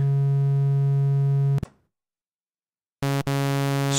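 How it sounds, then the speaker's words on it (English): A modular synthesizer plays a triangle-wave tone, a loud, steady, buzzy pitch that holds, cuts to silence, then returns. There is no talk. "Triangle wave. It's a little bit more buzzy."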